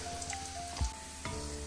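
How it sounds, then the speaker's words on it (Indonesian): Onions fry in a pan for mee goreng, cooked until golden: a soft, steady sizzle with a couple of dull knocks as they are stirred, and no voices. "Bawang ni kita kena goreng dia sehingga kekuningan."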